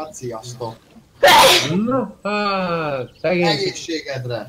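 A single sharp sneeze bursts out between stretches of casual conversation, loud and close, with people talking before and after it.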